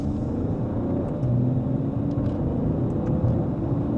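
A 2026 BMW 550e hybrid pulling away in sport mode, second gear, from inside the cabin: a steady low engine rumble and road roar with a slight rising whir, continuous and fairly loud, with no talk.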